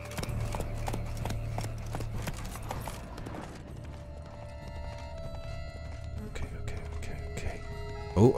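Horse hooves clip-clop at a steady trot in Witcher 3: Blood and Wine, repeated regular hoofbeats over a low rumbling game ambience, fading somewhat later, with a brief sharp noise at the very end.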